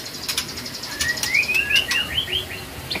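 A captive-bred magpie robin (murai trotol) sings close by, a bright run of rising and falling whistled phrases preceded by sharp clicking chirps, over faint background noise.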